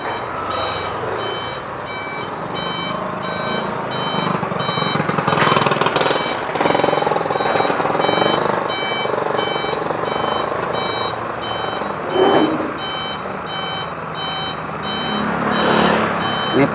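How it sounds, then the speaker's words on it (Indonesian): A trailer truck hauling concrete sheet piles backs up, its repeated reversing beeps sounding in steady bursts over a loud diesel engine rumble and rattling machinery noise throughout. "untuk truk yang di belakangnya, kontainer belakangnya ikutan mundur guys"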